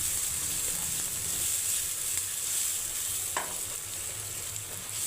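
A large, coarsely chopped onion fries in oil in a wok, cooked only until soft rather than golden, giving a steady, even sizzle and hiss throughout with no talking.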